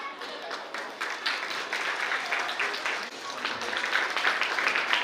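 A crowd at a play school event welcomes guests with steady clapping, a dense patter of applause filling the room at moderate volume, with a voice briefly audible beneath it.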